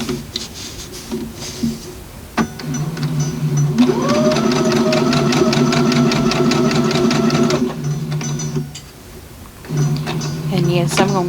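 A sewing machine stitches a seam on a pressed-flowers quilt block, running in a steady loud mechanical whir for several seconds, stopping, then starting again, close up with a voice speaking around it.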